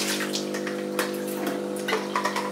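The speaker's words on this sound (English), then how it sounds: "So we empty out the water." Water being poured or drained out while making bulletproof coffee, a steady running, splashing flow with a continuous hum beneath it, close and moderately loud throughout.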